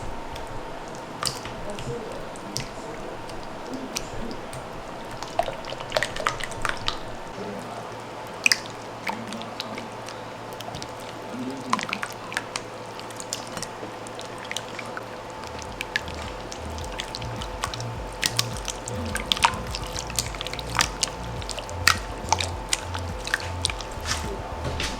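Jiggly water slime made with borax and guar gum is squished by hand, making repeated wet squelches, clicks and sticky pops in an irregular rhythm, close and fairly quiet.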